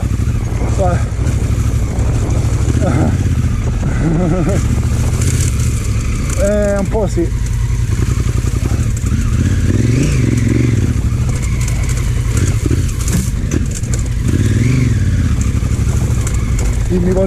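A motorcycle engine rumbles and revs while riding, with a loud, steady low drone, rising and falling revs and wind noise, as a rider talks over it through a helmet intercom.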